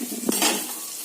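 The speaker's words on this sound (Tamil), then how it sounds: "நல்லா வதக்கி ப்ரௌன் கலர்ல வரணும்." Vegetables being sautéed and stirred in a pan, a short metallic scrape of a utensil against the pan over a soft sizzle, close and clear.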